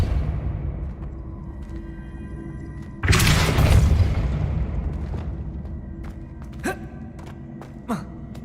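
A Depulso spell cast in Hogwarts Legacy, a sudden forceful whooshing blast that swells and slowly fades, followed by a couple of faint sharp clicks against low ambient hum.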